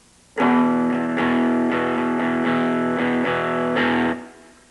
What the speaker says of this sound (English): here's my clean sound going directly into this amp